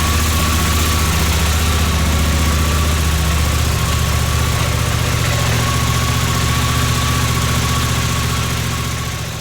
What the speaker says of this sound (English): I've done a little check by running the engine. It starts.